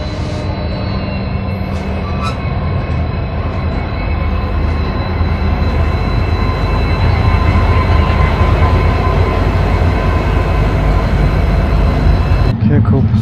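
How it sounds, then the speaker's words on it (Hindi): Ispat Express passenger train pulling out of Tatanagar station, a loud, steady rumble and rattle of wheels and carriages that fills the whole stretch without a break. "नगर से खुल गई है हमारी ट्रेन।"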